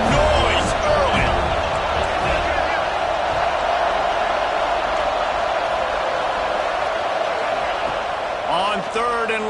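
Stadium crowd at a football game, a broad, steady roar that stays loud throughout, with a commentator's voice talking over it and a few sharp cheers near the end.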